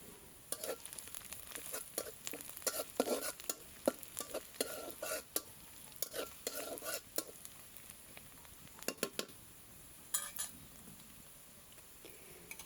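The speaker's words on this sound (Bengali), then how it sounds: "তো পেঁয়াজটা আমি একটু ভেজে নিব হালকা লাল করে" Chopped onions frying in oil in a pan, a light crackling sizzle broken by bursts of spoon scraping and stirring, close and fairly quiet, no one speaking.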